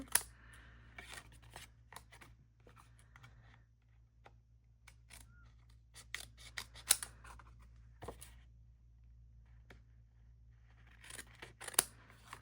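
Scissors trim the edges of a small die-cut paper piece, a series of quiet, sharp snips scattered unevenly over a low steady hum, with a few clustered clicks near the start, middle and end.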